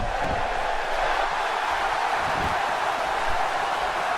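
The crowd in a WWE 2K17 wrestling match, cheering for a Texas home-state favourite, sends out a broad, continuous roar that stays even throughout.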